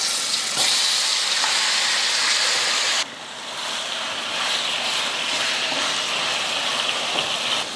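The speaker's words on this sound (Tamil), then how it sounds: "எண்ணெய் காஞ்சதுமே கலந்து வச்ச சிக்கனை சேர்த்துடலாம்." Marinated chicken fries in hot oil in a kadai, a loud, dense crackling sizzle that drops slightly after a few seconds and then carries on steadily with sputtering pops.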